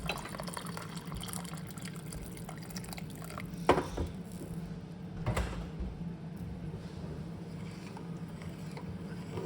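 Hot water pours and splashes steadily into a container for making Jamaican chicken gravy, with a couple of brief louder sloshes partway through and a low background hum.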